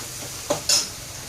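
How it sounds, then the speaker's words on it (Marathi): Masala with coriander powder and salt sautés in a pan, with a soft background sizzle broken by two quick scraping stirs of a spoon. "आणि असं मस्त कलर येईपर्यंत त्याला परतून घेणार आहे."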